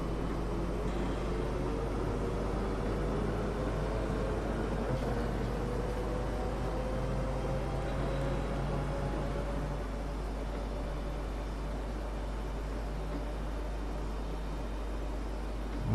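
Steady drone from an articulated bus driven through a snowstorm in the OMSI 2 bus simulator, with faint rising creaks from the articulation joint over constant low engine and road rumble.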